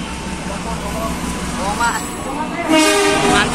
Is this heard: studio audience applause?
no